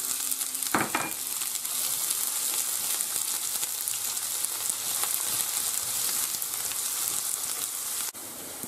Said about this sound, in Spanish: Ahora tenemos que rehogar la cebolla